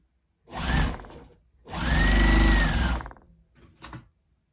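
Two bursts of a home sewing machine running as a fabric rectangle leader-ender is stitched, a short run then a longer steady whir, with faint handling clicks afterward, close and alone.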